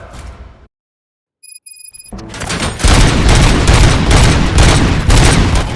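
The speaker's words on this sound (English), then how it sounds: "Gunshots? What's going on?" Gunfire erupts in RoboCop: Rogue City after a brief near-silence with a few high electronic beeps, then a dense, loud barrage of rapid shots and booms that continues without letup.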